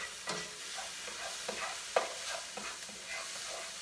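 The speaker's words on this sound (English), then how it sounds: "Now, let's stir our pot." A spoon stirs a pot of curry sweet potato stew, with soft scraping strokes and light sizzling at a fairly quiet level, close by, with no talk.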